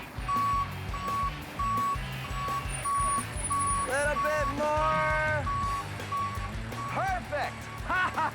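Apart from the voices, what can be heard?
cement truck reversing beeps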